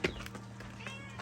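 A very small cat gives a brief meow right at the start, then quieter faint sounds follow against a low outdoor background in Madeira.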